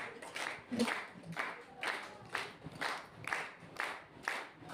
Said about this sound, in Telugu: అందరూ చప్పట్లు కొట్టమండి గట్టిగా